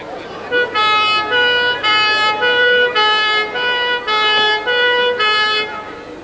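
A Civil Defence fire engine in a St. Patrick's Day parade sounds a loud two-tone horn in repeated, evenly spaced blasts, close by and dominating a noisy street crowd.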